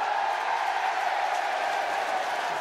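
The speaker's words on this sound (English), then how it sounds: "The Halifax crowd eventually have a cheer" Rugby crowd at a Halifax versus Bradford Bulls Challenge Cup match giving a sustained, distant cheer, a broad steady roar from the stands with no break.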